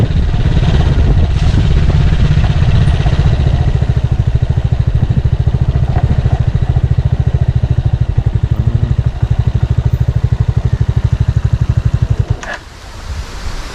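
Motorcycle engine runs steadily and loudly up close in a mountain setting, a continuous low rhythmic chug with wind noise, cutting out near the end.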